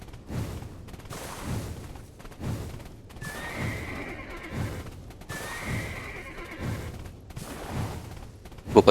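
Horses in the online video game Black Desert neigh loudly twice during a mounted group battle. Steady hoof clip-clop and scattered gunfire-like bangs continue underneath, with a sudden sharp burst at the very end.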